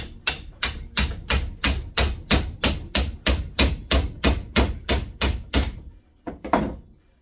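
A hammer strikes a wedge driven into part of a vehicle, with about fourteen loud, evenly spaced metallic blows in a steady rhythm, followed by a short pause and one or two softer knocks.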